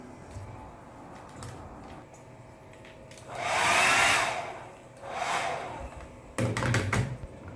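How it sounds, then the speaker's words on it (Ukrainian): A hair dryer whirs in two bursts, a louder one followed by a shorter one, with faint clicks and taps around them in a quiet hotel bathroom in Lviv. "фен рабочий."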